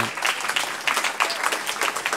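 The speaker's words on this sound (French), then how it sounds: "sous les applaudissements nourris" Sustained applause from an audience at a regional strategy launch event, dense steady clapping throughout with no voices over it.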